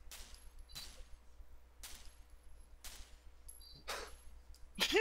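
Video game gunfire cracks out in short separate bursts, about six shots spread over a few seconds, with the last burst the loudest and closest, and no talking over it.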